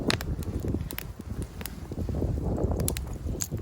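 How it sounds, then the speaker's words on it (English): Strong wind gusting outdoors beside a campfire, a steady broadband roar buffeting the microphone throughout with brief clicks and knocks over the top. "I don't know if you guys can hear me over all this wind"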